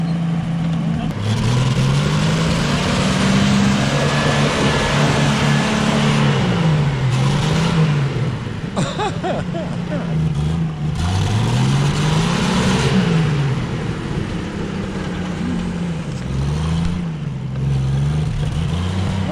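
A lifted Camaro revs steadily while its tires spin and slide on a loose surface, engine pitch rising and falling in repeated surges, loud and continuous throughout.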